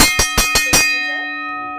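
A wrestling ring bell clangs four times in quick succession, bright and metallic, then rings out with a lingering fading tone.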